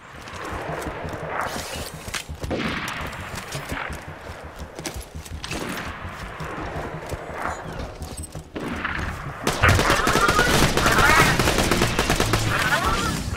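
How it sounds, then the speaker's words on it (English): Machine pistol fire in Borderlands 2 rattles out in bursts of rapid, sharp shots under game noise, then swells into a loud, continuous volley near the end. "Is this a machine pistol? Or a submachine pistol?"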